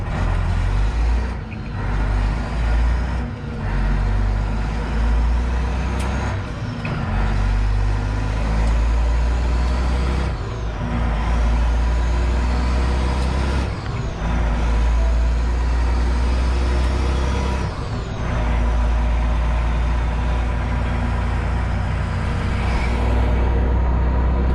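Truck driving on a road, a loud steady engine drone with low rumble, punctuated by several brief clunks and thumps over about twenty seconds.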